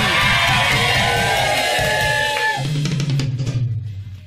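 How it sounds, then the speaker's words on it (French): A church congregation shouts the name of Jesus together, a loud roar of massed voices with yells and whoops that fades toward the end. "Est-ce que je peux entendre encore une autre personne crier plus fort le nom de Jésus?"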